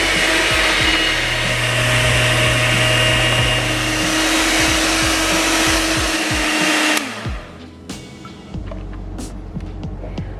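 Gluten-free, dairy-free cornbread batter made without corn, with baking soda and salt, whirred by an electric mixer in a loud, steady drone that cuts off after about seven seconds, leaving small clatters and handling noises.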